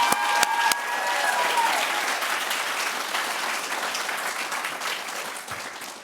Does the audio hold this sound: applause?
yes